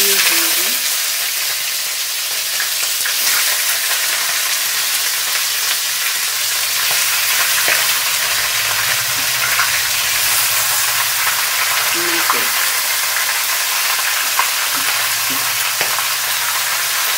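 About one and a half kilos of desi chicken, with some water, sizzles and crackles steadily in a hot pan for a spicy chicken kosha, a dense continuous frying hiss with scattered pops and faint scraping, no talk.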